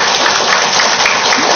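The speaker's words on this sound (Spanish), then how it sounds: "por favor, denle unas palmas" Applause at a public citizens' meeting, a loud, dense and steady burst of clapping for a doctor being introduced, with no talk over it.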